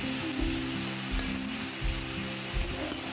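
Red onion and green chili sautéing in a pan: a dense, constant sizzle and crackle of frying close up, with a few soft stirring scrapes and bumps recurring roughly every second, no voices.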